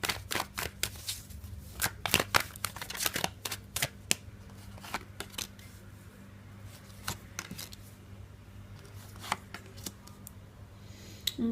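Tarot cards shuffled by hand in quick riffling bursts and sharp slaps, dense at first then sparser, close to the mic over a faint hum, with no voices.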